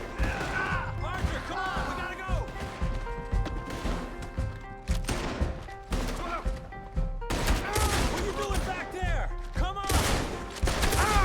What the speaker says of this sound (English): I'm shooting at these guys.